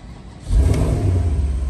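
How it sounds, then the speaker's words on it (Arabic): A 2012 Porsche Panamera with 86,000 km fires up after a short quiet moment, then its engine settles into a loud, steady, close idle with a little revving, and no one speaks. "طب الان نشغل السيارة يا اخوان"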